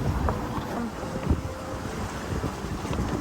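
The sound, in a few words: sailboat sailing in 14-15 knots of wind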